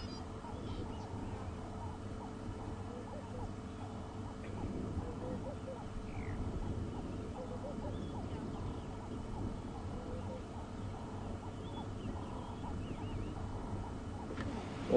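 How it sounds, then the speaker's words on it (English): Birds calling, including turtle doves, during a summer evening safari drive at Djuma Game Reserve, faint and distant under low background rumble across the whole stretch. "You can hear the birds calling, turtle doves."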